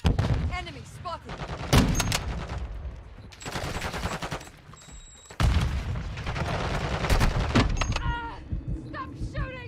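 Rapid video game gunfire from a Call of Duty match, with bursts of automatic shots and loud booming blasts in dense clusters, a sharp lull mid-way, then sustained firing again while a voice shouts over the battle.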